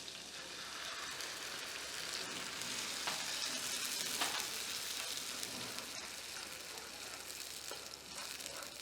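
Onion paste sizzles and fries in a pan with garlic paste and cumin for a restaurant-style kaju masala, a steady close crackling hiss that runs continuously with no talk.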